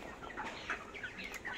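Chickens clucking on a poultry farm during hot weather, several short, faint clucks and calls scattered across a quiet, steady background.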